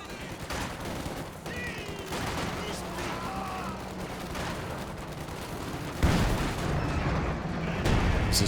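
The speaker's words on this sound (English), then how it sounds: "Just going for a barrage on the pack, but doesn't find the mark." An artillery barrage in Company of Heroes 2 rumbles under scattered small-arms fire, with a heavier impact burst toward the end amid a busy, mid-distance battle soundscape.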